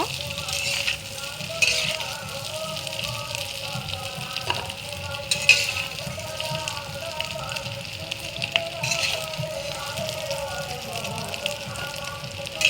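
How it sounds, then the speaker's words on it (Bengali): Paneer pieces fry in a pan with a continuous soft sizzle and occasional stirring scrapes, a voice talking over it throughout. "দেখো আমার পনিরটা ভাজা হয়ে গিয়েছে"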